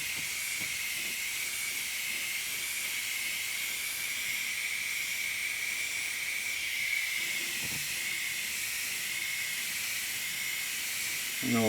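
An airbrush or spray can hisses steadily while laying light coats of paint onto a 1/4 scale custom model, a continuous close hiss with small clicks and handling noises near the end.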